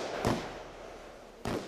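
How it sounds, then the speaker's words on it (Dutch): Fireworks set off at a memorial gathering: two distant, muffled bangs about a second apart over steady low crowd and outdoor noise. "Tijdens de herdenking werd er vuurwerk afgestoken en het zag rood van de fakkels."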